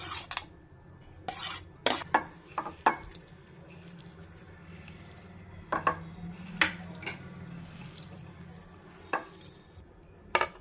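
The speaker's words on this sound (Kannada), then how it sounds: "ಕುಂಬಳಕಾಯಿ ಹಾಕ್ಕೋಬೇಕು. ಅದನ್ನು ಚೆನ್ನಾಗಿ ಮ್ಯಾಶ್ ಮಾಡ್ಕೋಬೇಕು." Yellow pumpkin and garlic being mashed for chutney, with a scattered series of sharp clinks and scrapes of a utensil against a bowl or pan, close and moderately loud, separated by quiet pauses; no talking.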